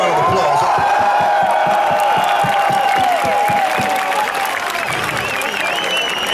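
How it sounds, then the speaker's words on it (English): A large crowd at a concert at Knotfest in São Paulo, Brazil, applauds and cheers loudly and continuously, with whoops and shouting voices rising over the clapping. "Give yourself a round of applause."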